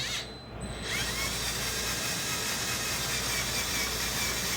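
A power drill bores slowly into a snapped bolt, its steady whirring grind running loud and close for several seconds after a brief pause at the start.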